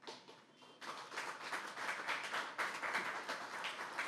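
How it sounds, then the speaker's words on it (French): Sustained applause rises from a lecture audience at a café philosophy gathering honouring a standing guest, a dense wash of many hands clapping that swells after a brief start and continues steadily throughout. "Je demande à M. Anji de se mettre debout et que la séance puisse l'applaudir"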